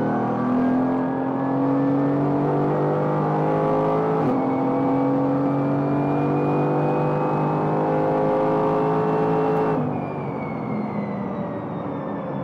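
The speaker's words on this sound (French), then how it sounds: "Déjà on sent tout de suite le V8, V8 biturbo." A GT3 race car's V8 biturbo engine pulls hard on a flying lap, a loud steady roar rising in pitch through each gear before sharp shifts, then easing off near the end; no voices.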